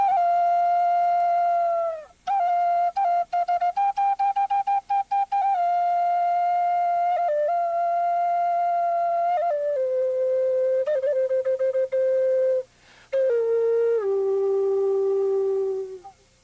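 Native American style flute playing alone: a clear, breathy single melody line of held notes and quick grace-note flicks, stepping down gradually, with short pauses for breath.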